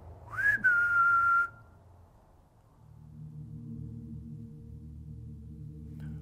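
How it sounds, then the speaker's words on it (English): A single clear whistle, a short rising note held steady for about a second, followed by a low engine-like hum in the background. "How about a whistle?"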